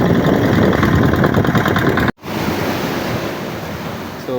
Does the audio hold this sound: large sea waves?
yes